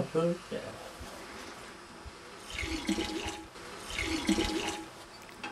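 Water runs and splashes as a trough is filled for cows to drink on a Danish farm, in two swelling gushes, with someone talking over the flow.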